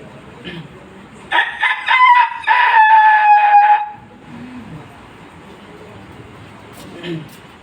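A person imitates a rooster crowing with one loud, close cock-a-doodle-doo call lasting a couple of seconds, preceded and followed by quieter speech and voices in the room.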